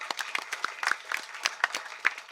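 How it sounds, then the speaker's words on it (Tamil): Audience applause at a Tamil public speech event, a scattered crowd clapping steadily at moderate distance, with irregular individual claps standing out from the rippling mass. "ஒரு கைத்தட்டல் கொடுக்கலாமே."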